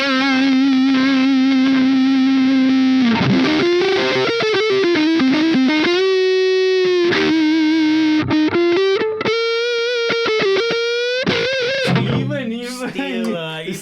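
Electric guitar played through a Dolphix David distortion pedal into an Engl amp, loud and saturated with sustained held notes, bends and fast runs, ending in a choppy flurry.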